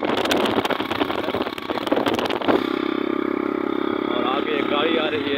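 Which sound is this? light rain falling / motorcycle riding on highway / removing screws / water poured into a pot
motorcycle riding on highway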